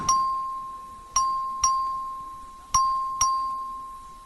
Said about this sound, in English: Clerk will please ring the bell.